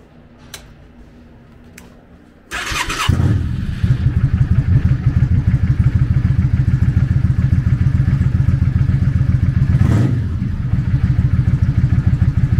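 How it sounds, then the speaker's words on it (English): A 2003 Yamaha V-Star 650 Custom with a 649cc V-twin engine cranks over briefly, then catches and settles into a loud, steady, lumpy idle, close by, after a few quiet clicks. "Powered by a 649cc V-twin engine, the VSTAR puts 40 horsepower and 51 foot-pounds of torque through a 5-speed transmission."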